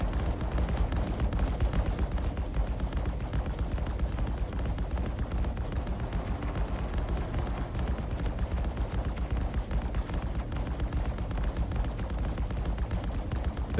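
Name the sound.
gunfire shots in a video game (Star Citizen)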